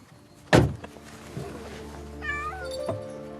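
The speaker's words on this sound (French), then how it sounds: "Hippolyte, le chat de mon fils." A house cat named Hippolyte lets out a short meow, then a softer second one, close by, after a sharp thump, with faint voices in the background.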